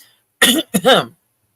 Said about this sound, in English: Now we're going to get a cough.